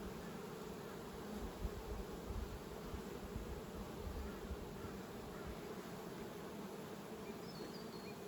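A steady, close drone of honey bees humming around an open hive during spring inspection, a continuous buzzing swarm sound with no voices, holding an even level throughout.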